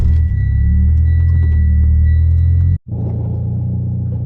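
A car engine cold-starts with a loud, steady low rumble that drops out briefly to near silence, then catches again into a rough, heavy idle that carries on alone.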